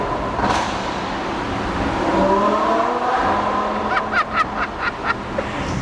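A Lamborghini Huracán Evo with its V10 engine revs hard and close, rising and falling in pitch before a series of sharp throttle blips and pops toward the end.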